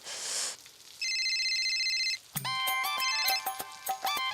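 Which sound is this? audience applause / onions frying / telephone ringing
telephone ringing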